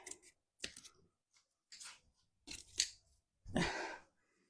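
Scissors cut paper for a Valentine's and winter kitchen craft, heard as about five separate short snipping and crinkling bursts with quiet gaps between them.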